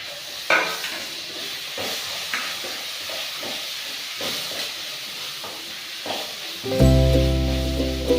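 Sabudana usal sizzles and hisses in a frying pan with occasional stirring scrapes, then tomatoes are added; near the end a low, steady hum comes in over the frying.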